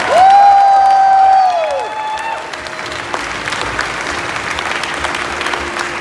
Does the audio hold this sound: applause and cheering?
yes